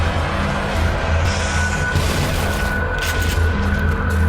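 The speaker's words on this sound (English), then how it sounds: "And that's the power of shotguns." Heavy booming shotgun blast in the survival horror video game The Evil Within, a dense sustained roar with low rumble and crackle, as if fire burns afterward, loud and continuous with no talking.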